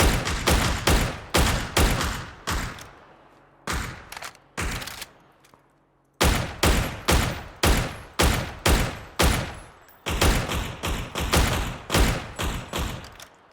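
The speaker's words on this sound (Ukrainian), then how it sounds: "Він по мені стріляє." Loud gunshots in PUBG ring out in rapid repeated bursts, with a brief lull before the shooting resumes just as heavily.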